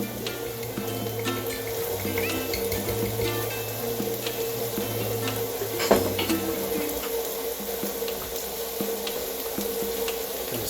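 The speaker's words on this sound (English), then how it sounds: "Gonna stir it." Golubtsy mixture being stirred in a pot in a home kitchen: steady scraping and clinking of a utensil against the pot, close and continuous, with a low hum and a single sharp knock midway.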